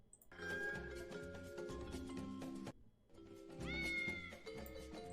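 Cat meows set to a tune play as music in the DOS game Countdown, a sustained, harmonically rich melody with a brief break partway through, loud and alone.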